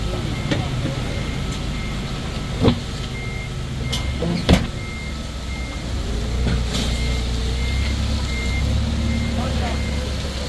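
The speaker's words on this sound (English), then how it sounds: "one truck coming already" A delivery truck pulls in on a Canadian farm and backs up, its reversing alarm beeping over a steady engine rumble, with a couple of sharp knocks and voices talking nearby.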